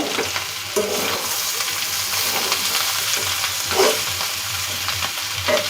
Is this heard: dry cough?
no